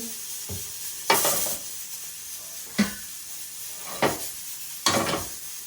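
Chicken cooks in a pan with olive oil, giving a low background sizzle broken by four or five louder bursts of frying and stirring at irregular intervals.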